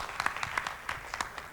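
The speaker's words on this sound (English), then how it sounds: "Round of applause for him." Brief scattered clapping from an audience at an annual conference, individual claps audible at a moderate distance, short and uneven.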